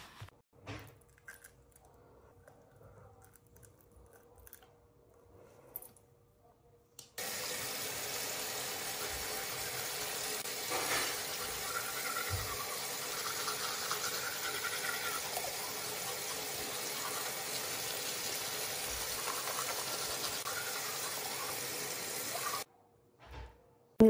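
Shower water switches on after a few quiet seconds of small bathroom noises, then pours in a steady, full hiss for about fifteen seconds before cutting off abruptly.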